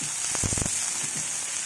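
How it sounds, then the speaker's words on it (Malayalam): Onion sautéing with salt in a pan on a high flame, a continuous close sizzle with a short cluster of scraping stirring strokes early on. "കുറച്ച് ഉപ്പും കൂടെ ഇട്ട് നല്ല ഫ്ലെയിമിൽ തന്നെ ഇതൊന്ന് വഴറ്റിയെടുക്കാൻ പോവുകയാണ്."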